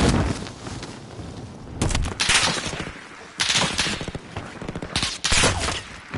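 Bursts of automatic gunfire during a Call of Duty: Warzone match, several loud clustered volleys with short pauses between them, close and sharp over the game's background noise.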